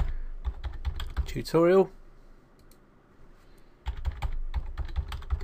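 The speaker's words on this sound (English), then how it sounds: "So we're going to type in here" Quick clicking keystrokes on a computer keyboard while a password is entered on a Windows 8 machine, a rapid run of taps, a pause, then another burst, with someone talking over it.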